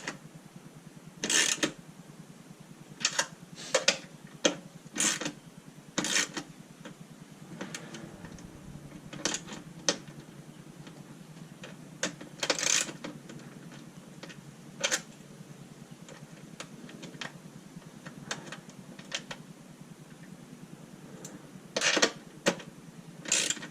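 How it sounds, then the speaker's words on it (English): Tie-down straps on a double-layer tailgate table for a Bronco are cinched tight, giving sharp ratcheting clicks in quick repeated bursts with short pauses between, close up against a quiet background. "I'm going to go ahead and cinch these other ones down really quick while I'm here"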